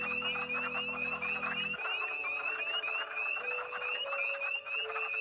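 Male wood frogs call in chorus from a spring vernal pool, a dense, continuous clucking and croaking with overlapping voices, steady and fairly close, with an insect-like hum and a brief low drone underneath at the start.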